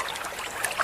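Water of a shallow, narrowing river trickles and flows steadily, a soft continuous babble with no voices, along silted banks overgrown with tall grass.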